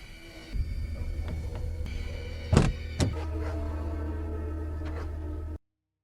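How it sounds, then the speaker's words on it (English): A car's doors lock with a couple of sharp mechanical clunks over a steady motor hum, close and distinct, with no talking. "Sasha quickly got back in the car and locked the doors tightly."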